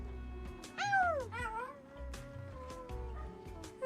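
A character in the game Reverse: 1999, during the Assassin's Creed collaboration, lets out a sad, wavering howl that rises and falls in pitch, repeated in a few drawn-out cries over a low background hum.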